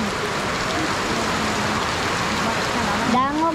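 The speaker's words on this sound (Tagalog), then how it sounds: "Ang lakas ng ulan, guys." Heavy rain pounds down in a loud, steady roar around a house yard, with a brief tonal sound rising near the end.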